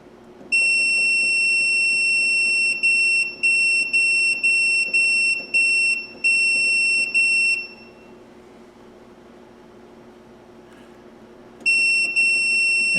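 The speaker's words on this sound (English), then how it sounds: "It's just beeping when you put the time in it." An ultrasonic parts cleaner holding VW Super Beetle carburetor parts gives a rapid series of short, loud electronic beeps as its timer is set. The beeps run steadily for about seven seconds, pause, then resume briefly near the end, with no talk.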